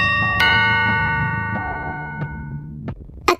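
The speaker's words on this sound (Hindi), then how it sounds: "घर की डोरबेल बजी।" A doorbell chime rings out with sustained bell tones that slowly fade, followed by a couple of small clicks near the end.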